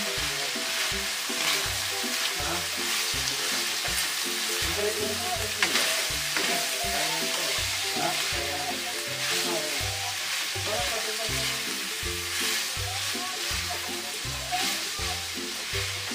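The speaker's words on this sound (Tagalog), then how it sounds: "Ilagay ko na po pala yung kalahati ng bawang." Garlic frying in a pan alongside beef, a continuous dense sizzle with crackling spits and occasional stirring scrapes, close and steady throughout.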